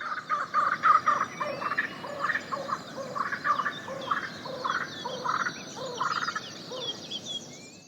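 Australian ravens harass a laughing kookaburra outdoors, with loud, close, rhythmic bursts of cackling calls that rise and fall in repeated phrases.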